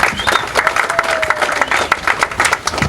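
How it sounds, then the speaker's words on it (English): Audience at a boxing press conference for Ortiz vs Berto clapping in a round of applause, uneven bursts of many hands close by and moderately loud. "Round of applause, ladies and gentlemen,"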